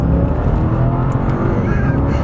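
A Mercedes CLK DTM race car from around 2004–05 roars close by, its engine note loud and sustained with a rich, dense growl under acceleration and no pause.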